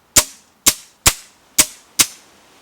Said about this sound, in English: This is a safe dry fire on the trigger.